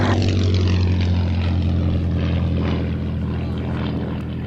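A P-47 warbird's propeller engine drones loud and close at an air show, a steady throbbing roar that eases slightly as it holds on.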